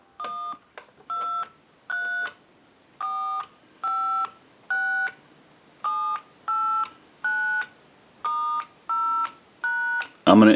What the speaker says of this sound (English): We're going to go ahead and dial our telephone out.